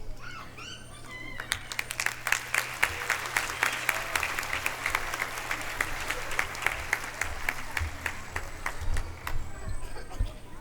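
Audience applause at a school centenary ceremony, a dense, steady round of many hands clapping that runs for about ten seconds at even loudness, with faint voices underneath.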